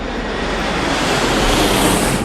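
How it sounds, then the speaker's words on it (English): Airliner jet engines at takeoff power, heard as a steady, loud, broadband roar that holds evenly throughout with no voices. "Engines are working fine at takeoff."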